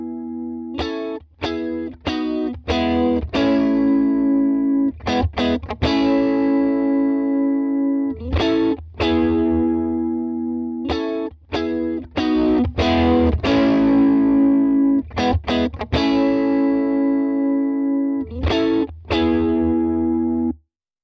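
Electric guitar plays a distorted rhythm part through a Tone King Imperial MKII amp, loud strummed chords in bursts with brief gaps and a sustained ringing tone between strums.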